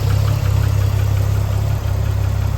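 A 1973 Triumph TR6's 2.5-liter inline six-cylinder engine with twin Stromberg carburetors idles steadily nearby, a deep, even rumble with a slight rhythmic pulse and no voices.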